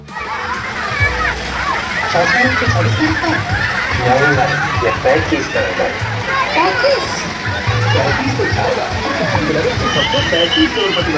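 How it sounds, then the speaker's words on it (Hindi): Water falls steadily from a fountain into a swimming pool at a resort water park, a constant splashing wash with sloshing, while children's voices and crowd chatter carry through the background. "यहाँ पे एक फाउंटेन जैसा बना हुआ है जिसमें से पानी गिरता रहता है"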